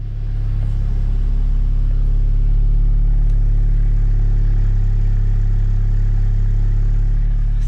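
A 2020 Volkswagen MK8 Golf R drives along with a loud, steady low engine rumble and road noise heard from inside the car, no speech.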